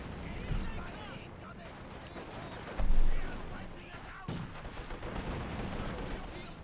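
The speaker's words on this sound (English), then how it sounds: "He's being shot to bits by the Volksgrenadiere. The Volksgrenadiere is being shot to bits by the Guardsmen." Volksgrenadiere and Guardsmen trading gunfire in the video game Company of Heroes 2, a dense rattle of small-arms shots with a heavier boom midway, rolling under continuous commentary.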